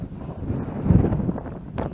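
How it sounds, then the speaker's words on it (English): Strong gusts buffet a camera microphone outdoors, a low rumbling roar that swells and fades over a couple of seconds with no voice. "the wind is crazy."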